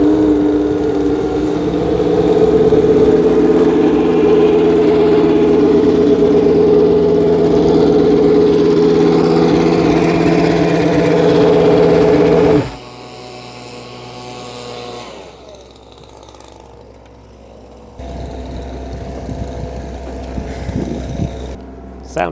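Williams FW20 Formula 1 car engine running at its shakedown, a loud, sustained droning engine tone close by that cuts off abruptly partway through, leaving quieter mechanical sounds and a low rumble.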